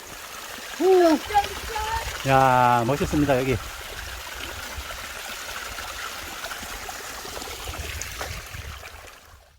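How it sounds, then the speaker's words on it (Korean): A small mountain stream trickles with a soft, steady burble on a hiking trail down Dalumsan in Gijang, Busan. It runs continuously under brief exclamations from a man near the start and stays faint and close throughout. "자 이렇게 내려오니 시냇물도 나옵니다."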